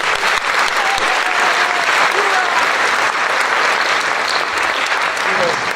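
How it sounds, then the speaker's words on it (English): Loud, steady applause from an audience at a village band concert, many hands clapping evenly throughout, with faint voices mixed into the crowd noise. "Give them a nice round of applause"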